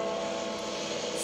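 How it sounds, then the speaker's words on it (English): Engine drone from World War II planes in a war film trailer, a steady dense roar filling the clip without any break. "With the planes coming."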